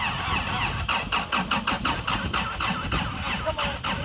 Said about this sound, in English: Let's see if the starter can start this baby.